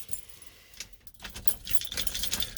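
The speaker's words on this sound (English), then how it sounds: "drop the keys" Keys jangle and drop inside a 1982 Ford F150 Bullnose pickup, starting with faint metallic rattles and building to a busy, bright jingling cluster of clinks up close.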